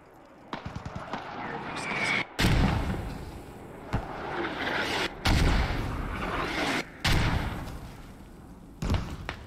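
Mortar rounds landing in the military video game Squad on the Chora map, several heavy booming impacts spaced a second or two apart amid steady battle noise, with voices talking over them.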